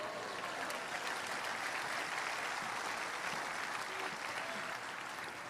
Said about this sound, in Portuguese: Você pode celebrar Deus com um aplauso aqui?